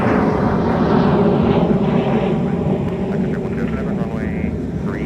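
An airplane passes close by a taxiway at MSP Airport with a broad, steady engine roar that holds loud and slowly shifts in tone. A voice talks over it.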